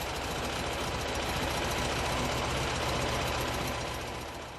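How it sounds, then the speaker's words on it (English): Three Rewaco trike engines, including a V-twin, a 1.8-liter boxer and a 50-horsepower chopper engine, idle together in a dense, steady, close rumble with a fast knocking pulse throughout. "The three trike engines awake at the push of a button."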